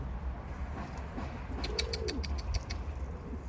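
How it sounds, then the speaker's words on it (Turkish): Pigeons and pet birds in an aviary give soft, low cooing under a faint background murmur, with a quick run of high chirps and tweets breaking through midway. "İçerisi kuş dolu oğlum"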